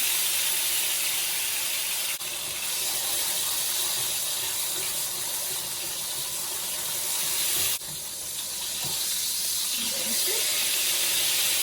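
A sauce-coated tortilla for red enchiladas sizzles in a frying pan with a steady, bright, hissing fry that holds through the whole stretch. Two small clatters break it up along the way, with no talking.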